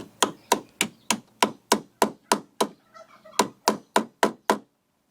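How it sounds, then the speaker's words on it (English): A tiny hammer taps on metal to bend it, a steady run of about ten sharp, close strikes, a brief pause with faint rustling, then five more evenly spaced taps. "I take this tiny little hammer and"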